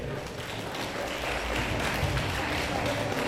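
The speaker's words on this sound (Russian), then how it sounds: "Ваши аплодисменты!" An audience at a beauty pageant awards ceremony in Anapa claps in sustained, dense applause that stays fairly even throughout, with a faint murmur of voices mixed in.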